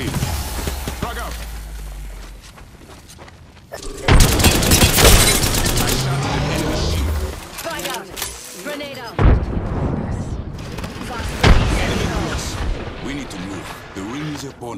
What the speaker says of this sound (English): Throwing a thermite grenade. Firing.